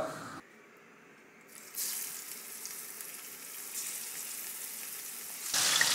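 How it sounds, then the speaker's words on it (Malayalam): Ribbon fish pieces dropped into hot coconut oil on a high flame give a faint hiss that swells into a steady, soft sizzle, with a brief quiet gap near the start and no talking. "ഞാൻ ഒരു പാനിൽ വെളിച്ചെണ്ണ ചൂടാക്കാൻ വെച്ചിട്ടുണ്ട്. നമുക്ക് ഓരോ പീസായിട്ട് അതിലേക്ക് ഇട്ട് കൊടുക്കാം"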